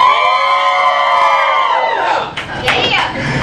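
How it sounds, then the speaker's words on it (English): A comedy club crowd at Buffa's Back Room in New Orleans erupts in loud, sustained cheering and high whoops, a dense wall of voices holding steady for several seconds. "Make some noise if you speak in high schools."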